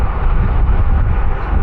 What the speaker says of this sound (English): it's particularly windy.